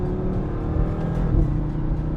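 A 2018 Audi RS3 five-cylinder engine pulls hard under acceleration, a close, throaty drone inside the car with a brief dip and rise in pitch as it shifts gear.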